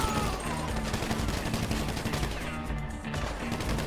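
Dense, continuous automatic gunfire from a shootout in the game GTA V Online, heard during a Humane Labs heist, with rapid overlapping bursts at a steady loud level.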